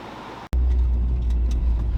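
A turbocharged Acura RSX drives on the street, heard from inside the cabin after a brief cut: a loud, steady low engine and road rumble with a faint whine above it.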